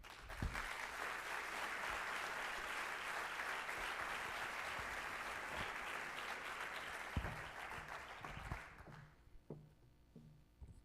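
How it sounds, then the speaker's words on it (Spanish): Warm, sustained applause from an energy-awards evening audience in Vigo welcoming the provincial council president, thick clapping that fades after about nine seconds into a few scattered claps and footsteps. "Recibimos con un súper caluroso aplauso a una mujer guerrera, Carmela Silva Rego, presidenta de la Diputación."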